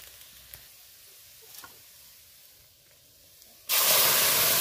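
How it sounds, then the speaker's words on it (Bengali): Boiled taro and spinach greens hit a hot pan spiced with cumin powder, bursting into a sudden loud, steady sizzle after a few seconds of quiet background. "দিয়ে একটু নেড়ে নিয়েই আমি সেদ্ধ করে রাখা কচু পালং শাক ঢেলে দেবো"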